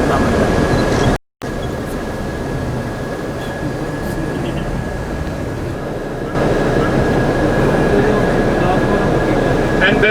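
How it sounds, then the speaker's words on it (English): An underground subway train rumbles below the Twin Towers in New York, a steady low roar lasting the whole stretch, broken by a brief dropout and swelling slightly louder toward the end. "That was an underground train which was passing below the tower, twin towers."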